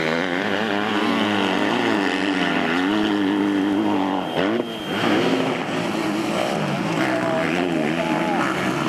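A KTM 250 SXF motocross bike races at MXGP La Bañeza in Spain, its high-revving four-stroke engine wailing continuously and changing pitch as the rider shifts down a gear and powers out of a turn, with commentary voices running over it.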